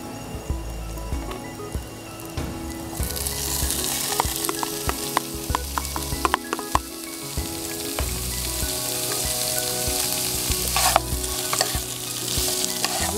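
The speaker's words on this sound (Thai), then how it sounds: "เราจะนำหมูชมวงย่างแล้วมาผัดนะคะ" Grilled pork wrapped in chamuang leaves stir-fries with garlic in a pan at a campsite, giving a loud continuous sizzle broken by repeated scraping and tossing strokes of the spatula.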